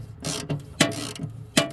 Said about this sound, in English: Then we will tighten it with the ratchet.